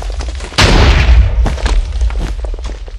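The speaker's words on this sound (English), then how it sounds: "Ah! Explosions!" Explosions in the Bedwars video game: a sudden loud boom breaks out, followed by a rumbling burst and a few further thumping blasts fading off.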